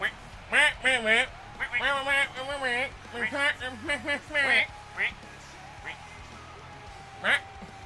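A duck quacks repeatedly in a loud, nasal, wavering series of calls, fairly close and clear, then fades to a few sparse quacks, with people talking around it.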